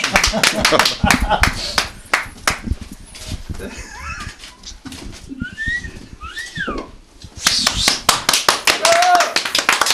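Rowdy party clapping comes in loud bursts at the start and again near the end. Whistles, shouts and excited voices fill the gap between the bursts.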